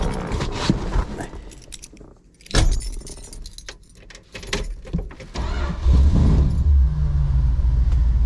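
A car engine cranking and catching after a little gas was added, a brief key jingle followed by an engine that settles into a loud, steady rumbling idle nearby.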